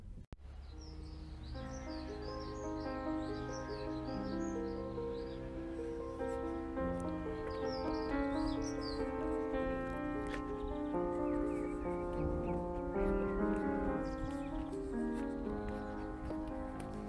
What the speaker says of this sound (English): These birds are really noisy.